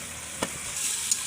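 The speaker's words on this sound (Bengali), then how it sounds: "তো এখন মশলাটা কিন্তু খুব ভালো করে আগে ভুনা করে নেব।" Spices and masala, with garlic paste, turmeric, salt and whole garam masala, sizzling and being stirred in a pan for a spicy rita fish curry with tomato, giving a steady hiss with a couple of small scraping clicks.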